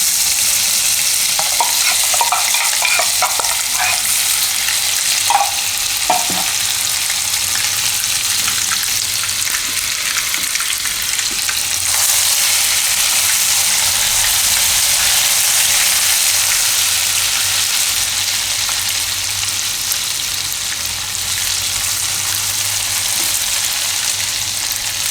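Ginger and green chillies sizzle loudly in hot oil with cumin for a Gujarati rasiya muthiya dish, a steady, dense frying hiss that runs unbroken through the whole stretch with no talking.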